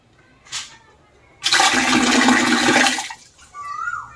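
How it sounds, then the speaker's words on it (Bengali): Water gushes steadily from a vessel in a magic trick for about a second and a half, a loud continuous splashing pour that stops abruptly, with a brief sound before it and faint noises after. "দেখুন আমার জল চলে এসছে"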